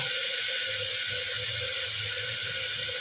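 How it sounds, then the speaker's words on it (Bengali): Water poured steadily into a pot of fish stew with cauliflower, a continuous close splashing hiss lasting the whole moment with no talk. "এবার আমি এর মধ্যে জল দিয়ে দেব"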